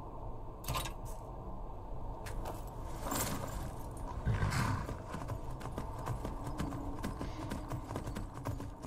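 Horse hooves clip-clopping in Skyrim, a steady rhythmic trot of hoofbeats on the ground with occasional metallic jingles of tack, moderately close over low ambient noise.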